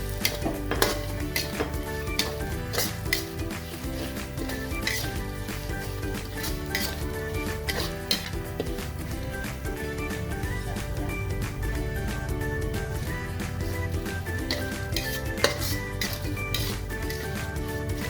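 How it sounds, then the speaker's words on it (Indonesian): Dried red chilies fry in hot oil in a wok, a steady dense sizzle running throughout with frequent scraping and clinking of a spatula stirring against the metal. "goreng cabai kering ini biar jangan hangus"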